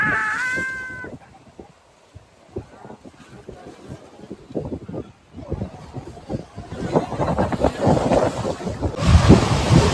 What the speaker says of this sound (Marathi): धनुष्कोटीचा समुद्र